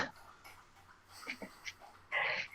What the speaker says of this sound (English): Is that a dog? Yes. Drinking water?